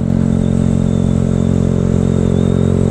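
A Yamaha FZ150i motorcycle in spec 63 tune runs at a steady idle nearby, its engine a constant, even hum with a faint mechanical clatter and no change in revs.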